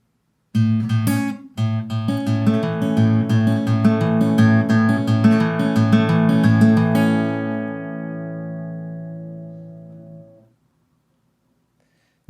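Guitar plays a picked, arpeggiated passage from a song. The notes are steady and close, the playing runs for about ten seconds, and the final chord rings out into silence.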